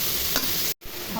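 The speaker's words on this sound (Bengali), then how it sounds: "গাজরের কুচি একটু ভেজে নিব, নেড়ে চেড়ে ঢেকে দিব।" Chopped carrots fry in a pan, a steady close hiss of sizzling oil with a spatula stirring through, briefly cut to silence for an instant before the sizzle resumes.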